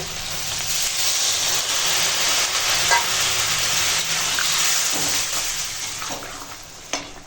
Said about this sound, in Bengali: এখন দিয়ে দেব জল